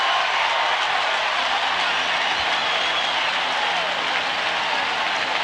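Baseball stadium crowd at Game 3 of the 1991 World Series, Twins at Braves, with a broad, steady roar of cheering and applause that holds at a constant loud level throughout.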